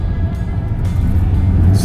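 A 1967 Chevrolet El Camino with a fuel-injected 400 small block rumbles steadily through its exhaust at cruising speed, a loud, close, continuous low drone.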